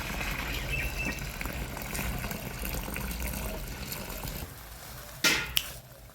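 Water being poured onto onion peels in a container, a continuous soft gushing and trickling flow that tapers off near the end, followed by a couple of short splashes.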